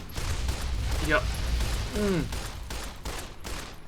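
Pistol fire in a Fallout: New Vegas gunfight, a dense burst of repeated shots running under a voice that speaks briefly, with battle noise throughout.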